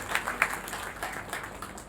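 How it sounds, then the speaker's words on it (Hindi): A room of attendees at a mentor-led training session gives brief applause, with uneven clapping that starts with a few sharp claps and then thins into softer, scattered hands. "तालियां चाहूंगा उसके लिए।"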